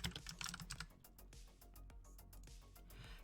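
Rapid clicking keystrokes on a computer keyboard, a dense burst of close taps easing into a sparser, quieter run of individual key presses, with no voice.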